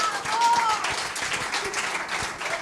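Audience applause at a stand-up comedy show, a full crowd clapping steadily and fairly loudly for a couple of seconds, with a faint voice mixed in beneath.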